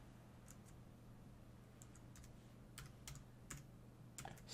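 Fingers tapping a computer keyboard: scattered, crisp keystrokes in short bursts, quiet and close, over a low steady hum, with no talk.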